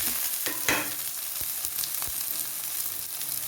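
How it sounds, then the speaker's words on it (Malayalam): Okra dropped into ivy gourd already frying in a pan, giving a steady sizzle with a few stirring scrapes and small crackles, close and fairly quiet with no talking. "ഇനി വെണ്ടയ്ക്ക ഇതിനകത്തേക്ക് ഇടും"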